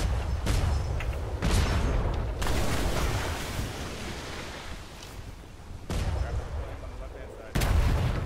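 Heavy booming cannon blasts from the video game ATLAS, fired from a ship, several loud broadband bursts with rumbling noise sustained between them.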